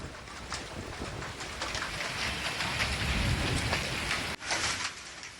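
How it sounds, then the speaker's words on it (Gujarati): Unseasonal hail and rain pour down in Saputara, Dang, Gujarat, a dense, loud, continuous hiss and drumming on surfaces with no voices. "સાપુતારામાં કરા સાથેનો વરસાદ પડ્યો છે."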